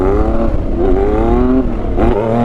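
Yamaha FZ09 motorcycle accelerating hard in second gear, a loud, steady engine note rising in pitch with a brief throttle dip near the end, no voices.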